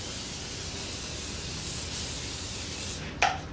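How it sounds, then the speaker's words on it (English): A continuous close hiss of cooking spray sprayed onto a pan, lasting a few seconds, ending with a brief clatter. "I'm using the cooking spray to spray the pan"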